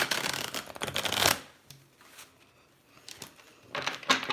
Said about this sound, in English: Let me do a full shuffle.